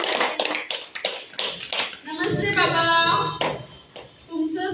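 Audience at a Lumirise Medicare gathering in Mhasrul, Nashik clapping in a quick, close burst of sharp hand claps alongside a spoken greeting, then a louder mixed swell of claps and voices.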